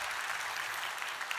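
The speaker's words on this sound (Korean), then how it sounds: "우리 큰 박수로 환영하도록 하겠습니다" Congregation applause in a church welcoming a pastor, a brief even patter of many hands clapping, fairly soft and continuous with no voices.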